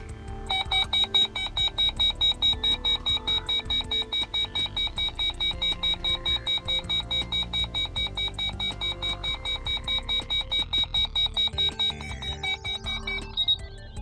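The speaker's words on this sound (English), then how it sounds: "it's a pretty simple sounding siren" A RadioShack 12-254 weather radio sounds its test siren: a steady electronic tone pulsing rapidly and continuously, loud and close, with a shrill high-pitched warble repeating without pause for the whole stretch.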